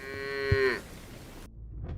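A cow in the government quarter gives one loud, close moo lasting under a second, followed by quieter street background.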